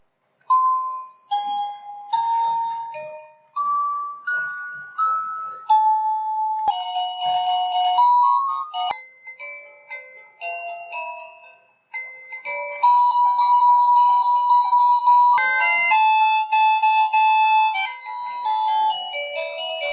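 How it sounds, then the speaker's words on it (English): A CACAZI A10 wireless doorbell chime plays a series of short electronic melodies one after another, each a clear run of bright tones separated by brief pauses, loud and close with no talk. "This unit has 60 melodies to choose from. Let's toggle through some of them very quickly by pressing the chime button."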